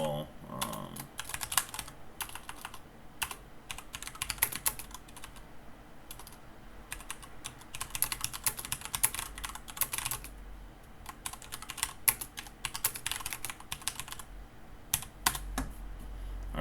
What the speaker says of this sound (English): But I can type things in here.